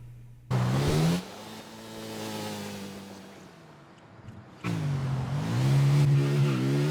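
Car engine in GTA IV held at full throttle, rising and falling in pitch across gear shifts, with sharp bursts of louder revving at the start and near the end.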